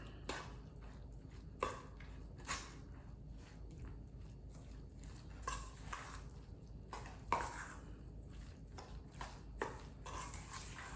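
Salmon patty mixture of canned salmon, diced onion and flour being stirred and mashed in a bowl, giving soft repeated squishing and occasional clinks of a utensil against the bowl, quiet and steady throughout.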